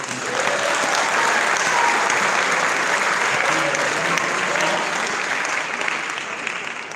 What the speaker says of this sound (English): one last round of applause for, again, 5 of the very best in JCPS